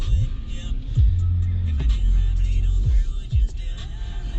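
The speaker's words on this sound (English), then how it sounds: "A lot of traffic heading into the city" A car drives in heavy traffic heading into New York City, giving a steady low engine and road rumble with a few brief swells, likely passing vehicles, close by throughout.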